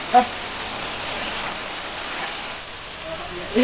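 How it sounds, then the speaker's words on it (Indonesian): Steady rain falls as a continuous close hiss, with brief human vocal sounds near the start and end. "Aduh hujan terus."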